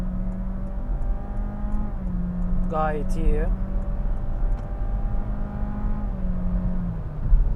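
A Honda Jazz Crosstar hybrid accelerates at full throttle while overtaking on the road, its engine droning steadily with a shifting, rising tone and road noise underneath, as someone briefly speaks from inside the car.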